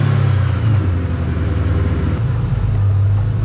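A Ford Mustang engine runs with its intake removed, giving a loud, close, uneven low rumble that wavers and dips as if struggling to stay running.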